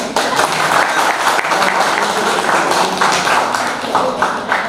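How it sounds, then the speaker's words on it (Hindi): Dense applause from a large audience at an open mic poetry event, loud and continuous, with a faint murmur of voices mixed into the clapping. "अगर ताली बजाए तो जरा खुल के बजाए"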